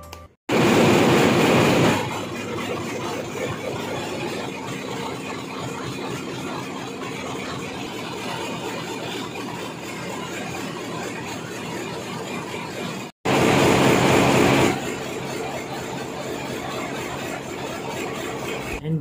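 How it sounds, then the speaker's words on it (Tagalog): A loud, steady mechanical roar of a container ship's main engine running at sea, heard in the engine room, continuous and droning, with brief louder surges near the start and again late on. "ganito kaingay yung tunog ng main engine guys pag nasa navigation kami"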